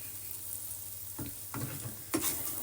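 Moong dal halwa being stirred quickly in a pan over a low flame, with a faint low sizzle and a few soft scraping strokes, the last one a little louder, close by.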